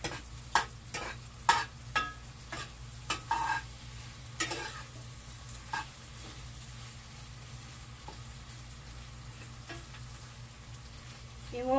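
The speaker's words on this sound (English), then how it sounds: "So let's get this stirred up" Chicken and sausage jambalaya with Tabasco sauce is stirred in a pot with a run of sharp spoon scrapes and knocks early on, which thin out to occasional taps over a soft sizzle. There is no talking.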